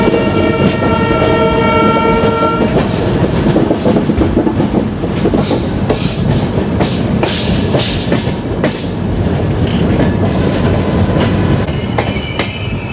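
A train on the Shirdi to Bangalore route running on rails, loud steady rumble and clatter of wheels throughout, with a sustained horn blast early on, heard from on board.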